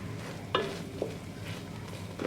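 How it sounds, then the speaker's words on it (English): A spoon works a sticky Rice Krispie treat mixture around a pan at close range, giving quiet scraping and soft sizzle, with a few distinct clinks of utensil against metal. "So just keep mixing so it doesn't stick to the bottom of the pan."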